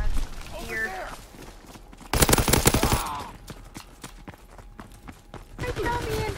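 Rapid automatic gunfire bursts out in a Call of Duty: WWII multiplayer match. A dense volley of shots is followed by scattered single cracks, while players talk excitedly around them.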